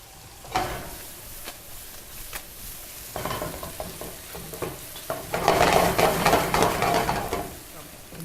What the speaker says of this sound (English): Now we're adding our flour.